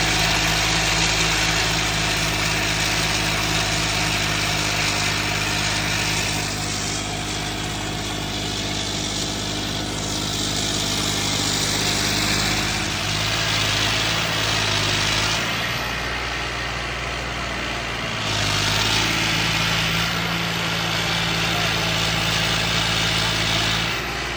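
A Farmtrac 6055 tractor engine fitted with a turbo and intercooler idles steadily close by, a loud continuous low diesel rumble with a few slight swells in revs, no talking.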